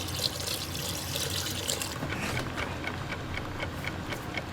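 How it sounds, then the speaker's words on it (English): Water poured into a pot over beef for a stew, a continuous close splashing and trickling that grows slightly thinner and more bubbly toward the end. "Add water to submerge the beef."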